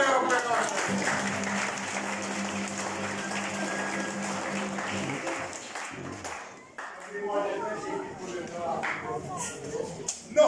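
An audience claps steadily after a youth summer-camp stage performance of Petőfi's play A helység kalapácsa, with a dense wash of applause that fades out before people begin talking.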